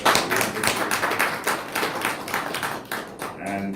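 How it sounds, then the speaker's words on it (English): An audience at a seminar claps in a loose, brisk burst of applause lasting a few seconds, fairly close, with a voice briefly heard as it dies down. "Can we give him a round of applause?"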